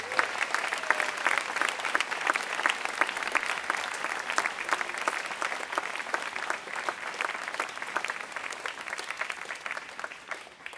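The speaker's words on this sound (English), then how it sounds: "Let's give them a round of applause." Audience applause at a Q&A event with the Dalai Lama, dense and steady for about eleven seconds, a broad wash of many hands clapping that fades slightly toward the end.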